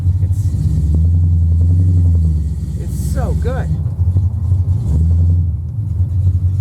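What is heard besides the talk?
hot rod car engine rumbling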